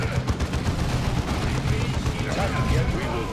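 Gunfire from squads of units in the real-time strategy game Dawn of War 2, a dense, continuous clatter of rapid shots and bursts, loud and sustained throughout with a busy battle din beneath.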